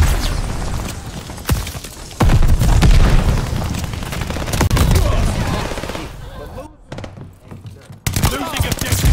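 Rapid bursts of "Power Flicker" assault rifle fire in Call of Duty Vanguard gameplay, loud close volleys mixed with booming impacts and explosions, broken by a brief lull before firing resumes.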